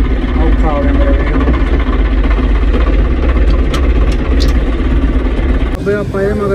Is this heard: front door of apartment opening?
no